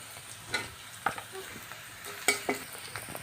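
Onions fry in a pan with a soft sizzle, punctuated by several sharp clinks of a utensil stirring and scraping against the metal.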